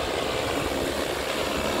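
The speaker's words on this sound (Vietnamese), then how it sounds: "Đây, máy đáp xuống." Agricultural spraying drone coming in to land over a field, a steady loud whirring rotor drone filling the whole stretch with no talk.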